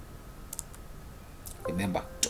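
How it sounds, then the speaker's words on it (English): Computer mouse clicks and keyboard typing on a desktop, a few sharp scattered clicks and quick key taps, faint and close, under a quiet room with someone talking. "I'm going to type core computer, okay, and then I click go"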